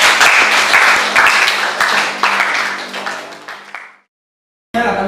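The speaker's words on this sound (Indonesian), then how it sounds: "Kita kasih aplaus buat kelompok." Loud, dense applause from a classroom audience for a student group that just presented, continuing steadily for about four seconds before stopping abruptly, then a short burst of clapping resumes.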